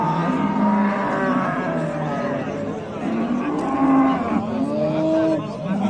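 Cattle at a livestock market: a cow lets out long, drawn-out moos, one rising and falling call after another, close and loud, with a busy crowd murmuring faintly behind.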